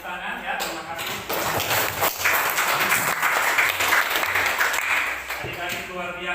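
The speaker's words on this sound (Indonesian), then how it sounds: "sekali lagi saya minta tepuk tangan" High school students in an Indonesian chemistry class clap together, a burst of quick, uneven hand claps from a roomful of pupils that builds and holds for a few seconds, with voices mixed in.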